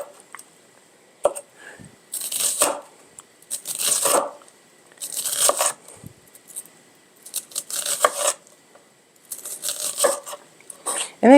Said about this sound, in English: Anybody else cut their onions like that?